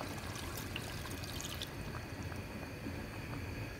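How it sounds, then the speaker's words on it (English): Water poured onto meat in a pot while preparing a Nigerian stew, a steady continuous pouring and trickling wash heard up close and fairly quiet, with no talk. "I'll be adding water to the meat now."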